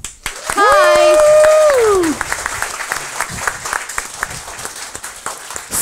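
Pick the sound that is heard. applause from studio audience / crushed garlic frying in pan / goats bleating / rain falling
applause from studio audience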